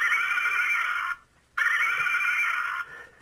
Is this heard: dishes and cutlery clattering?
no